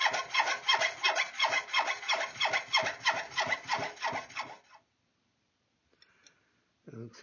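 A metal file scrapes a bevel onto a part from a swivel breech rifle kit, about a dozen steady, close back-and-forth rasping strokes, then silence with a few faint knocks near the end.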